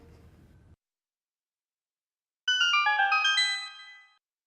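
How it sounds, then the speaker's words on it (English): A gold skulltula cue from the Hyrule Warriors video game: a bright, chiming ringtone-like jingle of rapid twinkling notes, fairly loud, rising in after a brief low rumble and silence, then fading out. "Do you hear that? It's coming from the direction of a gold sculptula, so you can find it by following the sound."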